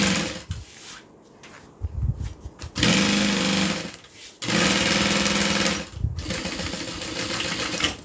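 A sewing machine runs close and loud in two sustained bursts, its fast mechanical stitching hum broken by brief stops and handling noises between runs.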